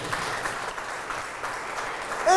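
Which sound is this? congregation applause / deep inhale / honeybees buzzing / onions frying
congregation applause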